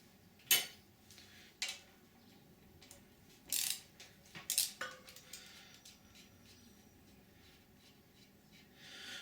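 A wrench loosens the 12mm locking nut on a motorbike front wheel during front-end removal. Several sharp metallic clicks and ratcheting snaps are close and spaced irregularly over quiet background, with no talk.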